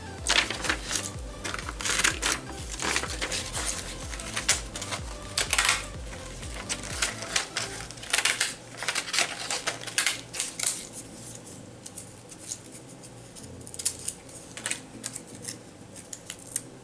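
Scissors snip through paper while cutting out journal prompts for a scrap-paper collage, a close run of quick crisp clicks and snips that gets sparser toward the end, with light handling rustle between cuts.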